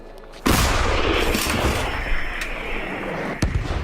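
Artillery gun fires a single shell in a combat setting: one loud, sharp near blast followed by a long rumbling tail and echo, with a second fainter crack near the end.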